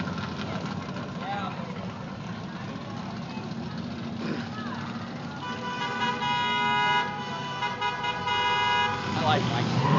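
A car at a car show cruise with burnouts launching off the brake, engine noise rising into a loud revving roar with horn toots, amid crowd chatter and voices throughout.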